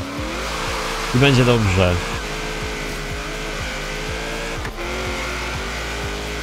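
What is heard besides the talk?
Camaro SS car racing in Forza Horizon 3 video game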